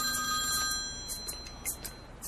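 A telephone rings in repeated electronic bursts, clear and fairly close, with no talking over it.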